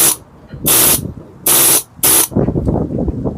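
Compressed-air tool powered from a compressor, raking cement mortar out of brickwork: three loud, close hissing blasts, then a rougher continuous spraying and chattering noise.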